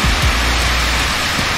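Heavy rain falls in a bus simulator game with a Scania bus, a loud, dense, hissing downpour that fills the short stretch evenly with no voices.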